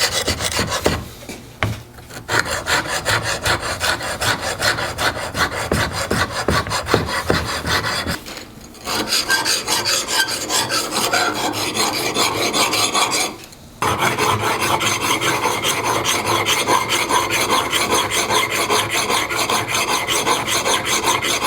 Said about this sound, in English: So I'm going to start by flattening the backs, the 2 sides of the corner.